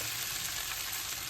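Rice tossed into a hot frying pan for fried rice sizzles in a loud, steady hiss, close up and alone, with no voices.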